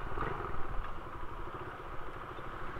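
A motorcycle travels along a muddy road between Campo Himoga-an and Lopez Jaena, with a low chugging engine and rattling that stay fairly steady and moderately quiet throughout.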